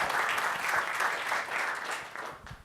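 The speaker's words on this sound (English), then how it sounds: "first a round of applause for Jonathan" A room of attendees at a technical talk on stream management and endpoint discovery claps for the presenter in a steady, even round of applause that holds for a couple of seconds, then thins out toward the end.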